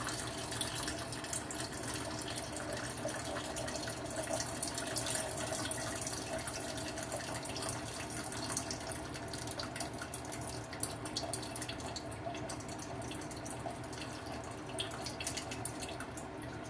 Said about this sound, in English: Got a can over here I can drain it into.